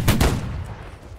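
A burst of musket fire from a Holdfast: Nations at War battle: two or three overlapping loud, close shots crack in quick succession and then fade into a short rumbling tail.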